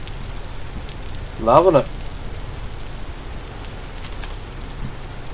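Steady rain falls throughout, a soft, even wash of hiss, with a brief spoken phrase rising over it partway through.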